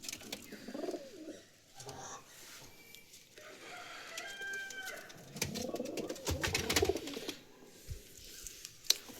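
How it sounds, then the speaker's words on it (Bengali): Pigeons at a backyard loft with low cooing and scattered calls, including a rooster crowing nearby, plus bursts of wing flapping and rustling, varying in loudness. "দেখতেই পাচ্ছেন সব পায়রা এখানেই আছে।"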